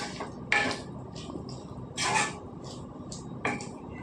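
Prawn curry with onions being mixed in a pan: four distinct, nearby scraping clinks of a spoon on metal at irregular intervals, with quieter light taps between them and no speech.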